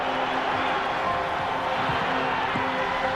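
A basketball arena crowd reacts to Michael Jordan's dunk from the free throw line, a steady, dense roar of many voices filling the whole stretch without letup.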